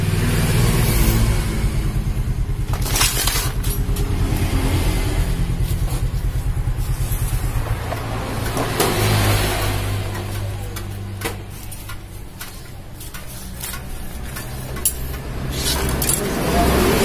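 A Honda C100 motorcycle engine idles roughly up close, with a loud, continuous mechanical drone and irregular metallic ticking and clinking from the cam chain, plus occasional sharper rattles.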